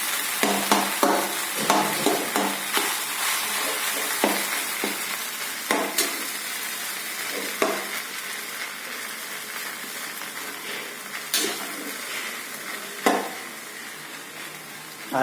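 Poha is stirred in a frying pan, with scraping strokes and soft sizzling in an irregular rhythm, close and clear, and no voices.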